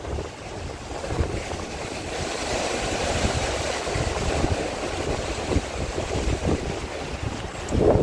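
Rough sea and strong wind at Mousuni Island, heard from a seaside camp room: a loud, steady roar of surf and gusting wind that rises and swells throughout, with no voices.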